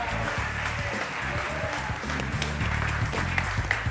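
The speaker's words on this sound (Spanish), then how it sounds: "Y te vas con este aplauso de todos" Steady applause from a studio audience on a televised chef competition as a contestant leaves the set, dense continuous clapping at moderate level under a low music bed, with no pauses.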